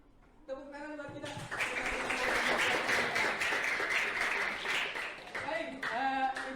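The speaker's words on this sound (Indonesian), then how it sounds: "Tepuk tangan buat kita." A class of seventh-grade students claps together in a classroom, loud sustained applause rising after a brief voice and fading as talking resumes at the end.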